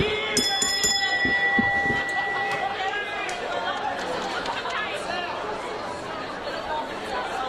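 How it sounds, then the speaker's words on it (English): A wrestling ring bell clangs several quick times at the start of a tag team championship match at an indoor pro wrestling show, then fades under steady crowd chatter. "Ring the bell!"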